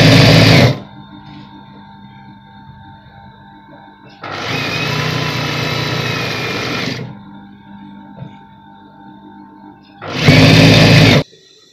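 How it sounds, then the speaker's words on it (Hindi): Sewing machine stitching elastic onto a pajama waistband, running in three loud bursts of steady whirring, one near the start, a longer one in the middle and a final short burst, with quiet pauses between. "तो ये देखिए हमने सिलाई लगा ली है"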